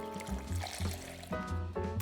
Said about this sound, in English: so now I'm just gonna pour in all the chicken broth